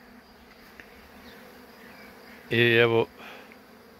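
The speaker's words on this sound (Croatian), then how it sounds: "fino izlaze pčele, to je nešto ljepota jedna" Honeybees at the hives of an apiary make one loud, close buzz for about half a second, as a bee flies past. The rest is faint background, with a short word spoken quietly.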